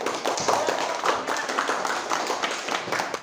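Students in a classroom clap together after finishing an Islamic religious education project, a brisk, fairly close patter of hands that stays even for a few seconds.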